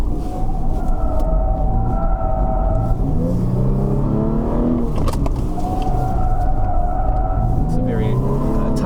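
2020 Toyota 4Runner TRD engine pulling in second gear, a steady loud droning rumble whose pitch rises and falls with the revs, under someone talking.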